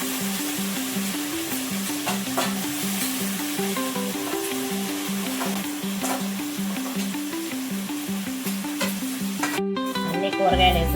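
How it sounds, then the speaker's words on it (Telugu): Chopped vegetables, including broad beans and tomato pieces, are stirred in a frying pan for a South Indian mixed-vegetable curry. Steady sizzling and repeated scraping strokes play over background music, with a brief break near the end. "కూరగాయలు వేసినాక ఒకసారి ఇలా కలిపేసుకోండి ఫ్రెండ్స్"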